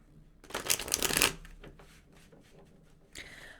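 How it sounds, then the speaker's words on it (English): A deck of tarot cards is shuffled close up, one loud riffling burst followed by a few lighter taps and a short final riffle. "So I'm going to give this a quick shuffle."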